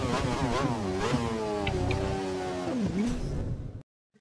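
A racing car engine from the video game Assetto Corsa revs loudly and continuously, pitch climbing and dipping through gear changes before cutting off abruptly.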